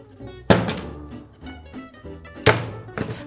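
A Sony camera in a protective case dropping, giving two dull, cushioned thuds about two seconds apart with quieter handling knocks between, fairly close.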